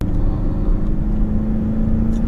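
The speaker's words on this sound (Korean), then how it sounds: "확실히 RPM을 올렸을 때 그 엔진의 회전 사운드가 훨씬 더 크게 들리죠" A Kia K8 facelift's 2.5-liter naturally aspirated gasoline engine drones steadily from inside the cabin, a low sustained rumble with a rising tone as the revs climb.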